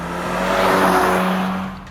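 A Skoda Octavia RS with a 2-litre turbo petrol engine revs hard in manual mode, a loud, steady rising engine roar that swells and then eases slightly, with no voices.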